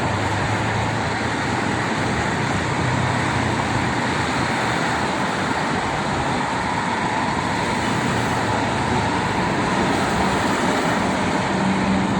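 Steady broadband roar of heavy congested traffic on the Jakarta–Cikampek toll road after Lebaran, cars and buses crawling, continuous and fairly loud with no voices.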